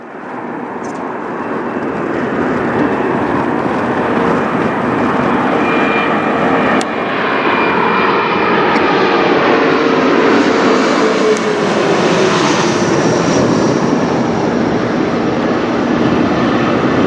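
An Air Canada Express regional airliner operated by Jazz Aviation flies over near Toronto airport, producing a loud, continuous jet roar that holds steady for many seconds and shifts slowly in pitch as it passes.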